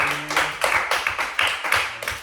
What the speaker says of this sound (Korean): 하나님께 영광을 박수하겠습니다